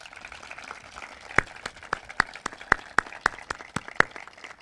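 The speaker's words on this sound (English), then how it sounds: "Seniors, give your supporters a round of applause." Sparse clapping from a graduation ceremony audience, a handful of distinct, separate claps spaced irregularly, fairly quiet and heard over faint room ambience.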